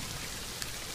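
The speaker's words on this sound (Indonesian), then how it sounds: "Gerimis teman-teman." Soft, steady patter of light drizzle falling, a faint even hiss with no voices.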